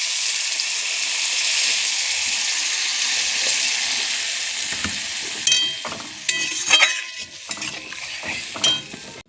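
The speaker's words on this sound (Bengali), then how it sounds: "অল্প জল দিয়ে দেব, বেশি না, অল্পই দেব।" Puti fish and potatoes frying in a pan give a steady loud sizzle, then turn harsher and bubblier with sharp clinks of a utensil stirring against the pan.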